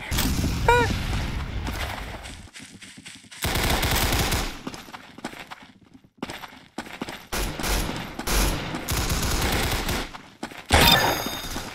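Rapid video game gunfire in Arsenal, with loud bursts of automatic shots and single cracks in several clusters separated by brief pauses, close and dense throughout.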